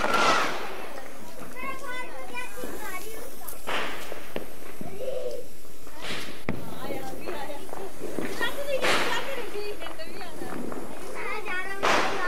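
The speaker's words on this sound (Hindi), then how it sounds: "यहाँ पे सब लोग पटाखे फोड़ रहे हैं छत पे आके" Sharp firecracker bangs burst out every second or two, loud and close, with a crackling scatter between them and voices chattering throughout, during Diwali celebrations on a rooftop.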